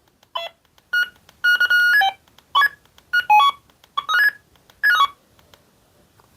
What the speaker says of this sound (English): Roger beep